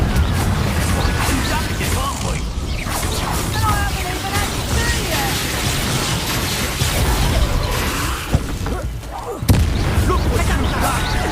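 Spell combat in Hogwarts Legacy, with a dense, continuous wash of magical blasts and bursts, a sharp impact near the end, and steady game effects throughout.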